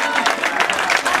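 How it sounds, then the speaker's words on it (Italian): Dense, loud crowd applause at a dance competition evening at a beach chalet, a brief burst of many clapping hands mixed with some crowd noise. "fatemi sentire più forte questo applauso"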